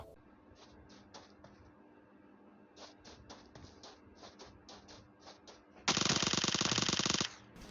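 PUBG Mobile game gunfire: a scatter of sharp single shots in loose clusters, then a dense, loud sustained automatic burst lasting over a second near the end.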